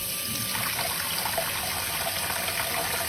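Tap water runs steadily into a pot of ham hocks for greens, a close continuous splashing gush with no talk.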